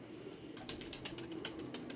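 Lakha pigeons coo softly in a loft, a low murmuring drone with a burst of rapid wing flutters starting midway, faint and fairly close.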